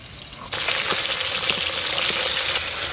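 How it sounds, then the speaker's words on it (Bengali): Fresh pond fish frying in hot oil for an Indian fish curry with potato and tomato, a loud, steady sizzle bursting in abruptly after a short quiet start and crackling evenly at close range. "এই রেসিপির জন্য মাছগুলো একটু লাল লাল করে ভাজতে হবে।"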